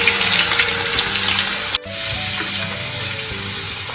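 Curry leaves and ten to twelve crushed garlic cloves hit hot oil with cumin for a bottle gourd shaak, giving a loud, close, steady sizzle with one brief dropout midway.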